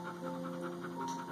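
A dog pants in quick, rhythmic breaths, close and fairly soft, with no talk.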